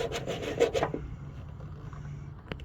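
A small hacksaw blade rasps back and forth through the metal frame of a Box Chevy Caprice. A few quick strokes are heard up close, then the sawing stops and only faint background noise remains.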